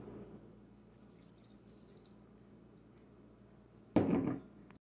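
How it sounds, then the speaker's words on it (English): Water, one cup, is poured into a pan holding ramen noodles and seasoning for a ramen pancake, a short, close splash near the end after a quiet stretch. "Add 1 cup of water."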